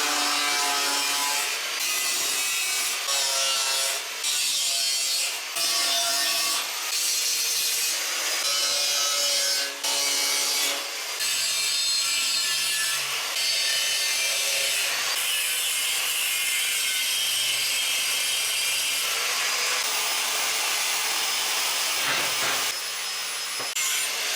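A saw cuts the corners off a piece of wood in repeated rasping strokes, loud and close, with short pauses between bursts of steady back-and-forth cutting.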